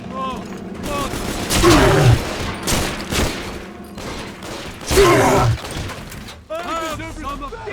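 Gunfire from a battle in the video game BioShock 2 Remastered: two heavy loud bursts of shots and explosive booms, with shouting voices and game music in between.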